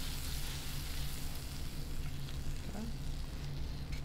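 A grilled cheese sandwich browns in a pan with a quiet, steady sizzle that continues evenly, faint and close, with a low hum underneath.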